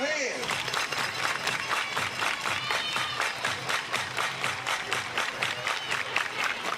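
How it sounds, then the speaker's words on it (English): A softball crowd claps in unison at a night game, the rhythmic beats steady and close together, while a commentator talks over the clapping. "Everybody clap your hands."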